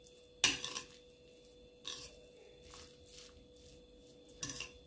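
Spoon stirring a mayonnaise mixture in a bowl, a few sharp clinks against the dish separated by soft, faint squishy stirring, close up and quiet.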